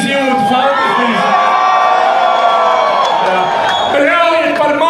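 A crowd at a rap battle shouts, whoops and cheers loudly and continuously, with many overlapping voices swelling and falling across the whole stretch.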